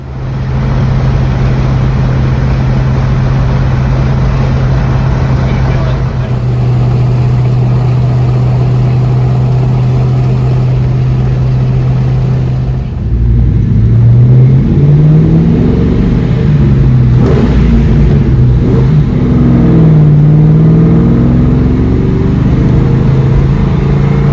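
A 2002 Ford Mustang GT cruising home on the road, its steady engine drone heard from inside the car, then revs rising and falling through gear changes in the later half; loud and close, with no talking.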